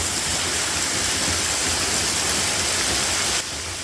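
Waterfalls pour inside a big cave, a steady, loud broadband roar of falling water that fills the space without pause, dipping slightly in level near the end.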